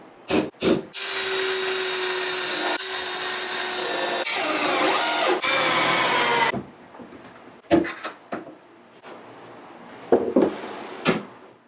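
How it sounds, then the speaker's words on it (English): A power drill bores pilot holes and drives screws into a wooden table saw fence: short bursts of whirring, one long sustained run with pitch changes, then scattered knocks and clunks of handling. "I drilled pilot holes, countersunk them, and then screwed the fence to the sideways support."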